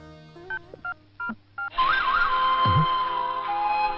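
Telephone keypad tones sound as four short separate beeps in a steady rhythm, followed by a long continuous tone with a faint moan beneath it, clear and close.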